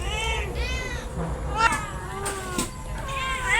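Several pet cats meowing close by, a run of repeated rising and falling meows from more than one cat, with faint background noise between calls.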